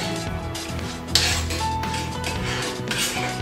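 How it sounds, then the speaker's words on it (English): Tom yum soup with pork belly is stirred in a pot, a few metal clinks and scrapes of a utensil against the pot over a steady background hiss, close by with no voices. "So stirring it."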